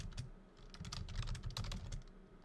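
Rapid, uneven clicking of computer keyboard keys being typed on continuously, close and fairly quiet, with no voices.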